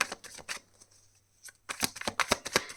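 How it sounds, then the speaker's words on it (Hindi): Tarot cards are riffled and shuffled close up in quick bursts of crisp flutter with a brief pause in the middle, quiet and with no talking. "Last shuffle."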